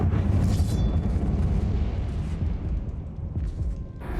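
A Confringo fire spell bursts inside an old closed-off mine tomb in Hogwarts Legacy, a heavy rumbling boom with a loud onset that rolls on as a low, dense roar and gradually settles.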